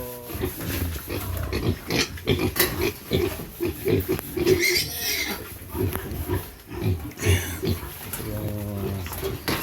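Young piglets, about a month old and the first litter of a black sow, grunting and squealing in a pen on a small home farm, with busy overlapping grunts close by throughout.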